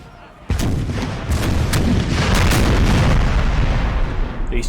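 Cannon artillery fires in the Napoleonic-era battle game Napoleon: Total War, a dense, loud rolling barrage of booms and cracks that starts abruptly and continues without pause, with faint battlefield noise beneath.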